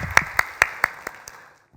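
About six sharp, evenly spaced claps ring out in a church and then fade with a short reverberant tail, a brief round of applause from the congregation.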